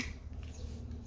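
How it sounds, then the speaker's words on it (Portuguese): A small branch snaps off a Japanese heath plant (Erica japonica): one crisp, quiet crack right at the start, followed by near-silence. "Eu acho que eu vou tirar este galho aqui."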